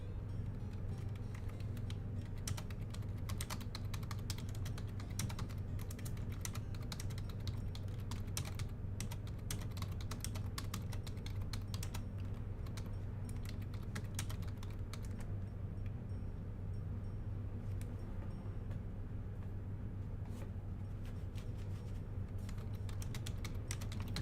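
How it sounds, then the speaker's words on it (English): Rapid, irregular clicking comes from typing on a computer keyboard, with soft keystrokes tapping in bursts and brief pauses over a low, steady background hum. "I'm just texting someone through typing on the keyboard"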